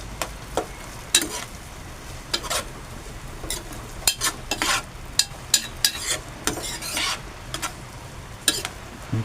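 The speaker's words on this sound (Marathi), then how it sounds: "हा बघा, कांदा आता तांबूस होईपर्यंत आपण परतून घेऊ." Onion sautéing in a pan in a home kitchen, a low sizzle broken by repeated scraping and clinking strokes of a spoon against the pan, uneven and close.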